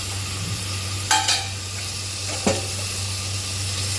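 Curd being stirred into chicken biryani in a pressure cooker, with two short scraping, clattering bursts of a spoon against the pot over a low, steady hum and faint sizzle.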